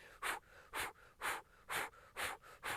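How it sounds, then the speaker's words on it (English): Breath of fire yoga breathing done while holding a plank: quick, forceful nasal exhales in a steady rhythm, about two per second, close and fairly quiet, with no talk. "we're gonna do this really intense breathing to help wake our body up called breath of fire"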